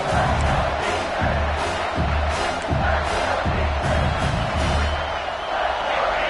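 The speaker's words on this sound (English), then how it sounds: "Decibels rising as the crowd gets behind this defense on 3rd down." Football stadium crowd roaring steadily as fans get behind the defense on a third down, a loud, dense wall of cheering and shouting that swells in waves throughout, with no clear single voices.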